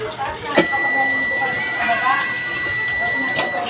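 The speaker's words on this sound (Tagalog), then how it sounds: "Meron, may buzzer na." An electronic rice cooker buzzer sounds with a steady high-pitched tone, while a person talks over it nearby.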